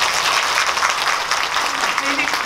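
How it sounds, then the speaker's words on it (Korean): A cinema audience at a movie talk event for the film Revolver claps in a steady, fairly loud burst of applause that runs throughout, with a faint voice briefly audible near the end. "일단 두 분에게 박수 좀 부탁드리고요."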